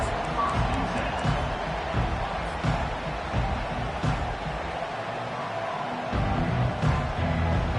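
A large stadium crowd roars and cheers at a Vanderbilt vs Texas college football game after a kickoff return, a dense, continuous wash of noise with a commentator talking over it.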